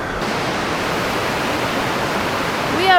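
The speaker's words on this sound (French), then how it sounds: "La chute d'eau, la cascade, qui marque la fin de cette marche." Cascading waterfall at the end of a hiking trail in Andalusia, a steady, loud, close broadband rush of falling water filling the whole stretch.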